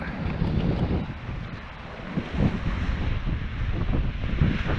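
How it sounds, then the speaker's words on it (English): Gusty coastal wind buffets the microphone on a Lilstock shore fishing session, a steady broadband rumble that swells and eases in blustery surges without a break. "The old wind's a bit blustery"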